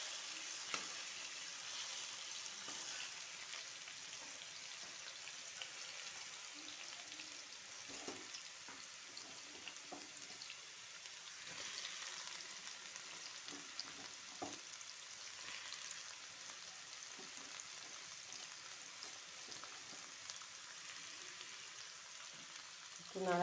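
Chopped onions frying with potatoes in a pan for a breakfast potato and egg dish, a faint continuous sizzle with occasional soft stirring scrapes, heard alone and at low level.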